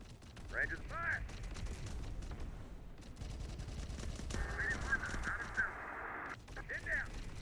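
Rangers trade bursts of automatic gunfire in an urban battle in the Terminator Dark Fate Defiance war game, rapid crackling volleys mixed with distant radio-style voices and honking game sound effects.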